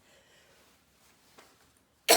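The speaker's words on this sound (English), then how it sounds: "I'm already coughing from the dust." After near silence, a single sharp cough from workshop dust bursts out loudly and close at the very end.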